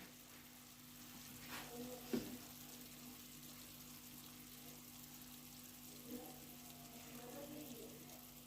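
Chicken fries in oil inside a handi pot with a soft, faint continuous sizzle and an occasional small clink or stir, set against a low steady hum.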